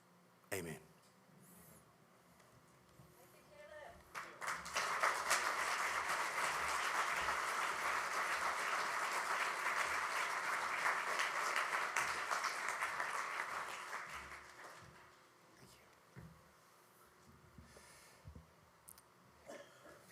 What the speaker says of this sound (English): Can we get another round of applause for all of our presenters and all our marketplace presenters and all our facilitators and worship leaders?